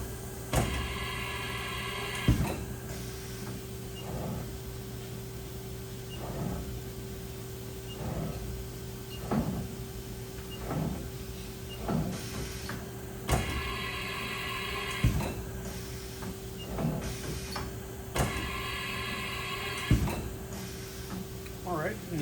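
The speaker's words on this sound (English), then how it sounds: "we'll go through a couple tool changes" A 2003 Haas VF-2SS Super Speed CNC vertical machining center runs through tool changes: bursts of motor whir and sharp clunks repeat every few seconds over a steady machine hum, with someone talking at times.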